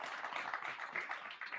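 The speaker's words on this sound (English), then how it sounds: "a big round of applause for the brave souls who came up here" Brief burst of audience applause for volunteers at a Motion Picture Institute open house, a dense steady wash of many hands clapping without voices.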